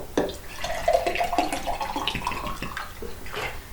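Water pours steadily from a cup into a blender jar of apple pieces for homemade apple juice, a close, continuous splashing trickle heard on its own.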